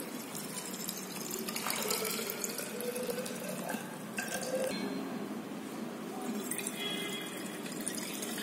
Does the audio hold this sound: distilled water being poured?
yes